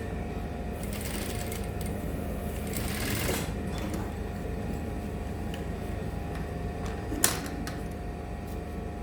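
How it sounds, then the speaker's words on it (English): A sewing machine stitching culottes fabric, a steady low mechanical whir with a couple of brief louder clicks, moderately quiet and alone. "take it to my machine and sew from that notch part"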